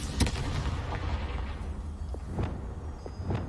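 The Confringo spell fires in Hogwarts Legacy, a sharp explosive burst followed by a few fainter blasts and thuds under a low rumbling game soundscape, with no voices present.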